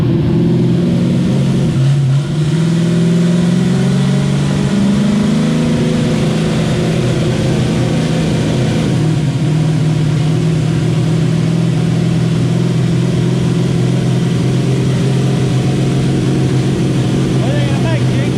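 A turbocharged LS engine with an 88mm turbo in a Mustang drones loudly on a dyno, its pitch rising and falling as it revs and holds, with voices talking over it.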